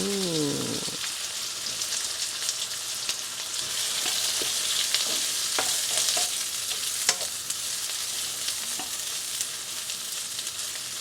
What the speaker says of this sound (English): Now we put in all the tofu.